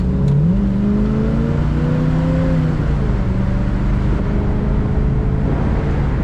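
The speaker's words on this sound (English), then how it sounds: "Very nice acceleration, smooth acceleration" A 1965 Chevrolet Impala convertible accelerates smoothly, its engine note climbing and then levelling off under a steady low road rumble, close and fairly loud with no talking.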